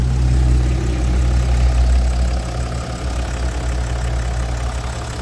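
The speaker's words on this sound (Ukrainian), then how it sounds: "Покажу роботу двигуна" A 2015 BMW X5 M50d xDrive 3.0 diesel engine idles steadily up close with a deep, even rumble throughout.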